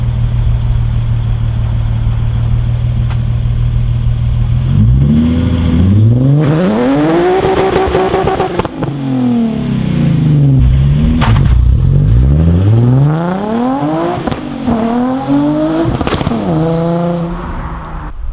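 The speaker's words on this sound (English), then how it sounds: "I'm gonna do a dig, and then I'm gonna try to do a burnout for you guys" A Nissan 350Z idles, then launches hard in a dig and burnout, its engine revving up through rising and falling sweeps, loud and close, with no talking.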